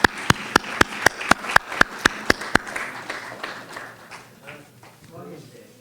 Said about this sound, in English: We can give them a round of applause anyway.